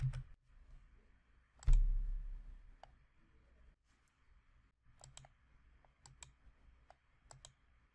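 Scattered clicks and key presses on a computer keyboard, with one heavier thump early on, then a string of short, crisp taps spaced unevenly in a quiet room.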